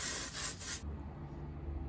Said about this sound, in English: Add a little bit of texture spray.